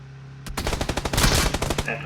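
Rapid bursts of automatic machine gun fire in a video game, dense and loud, starting about half a second in and rattling on steadily to the end.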